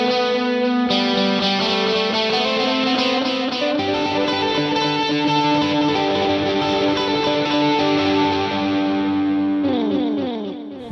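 A Fender Player Series Stratocaster electric guitar plays a sustained lead line with effects-laden, slightly distorted tone, notes ringing and shifting over steady accompaniment.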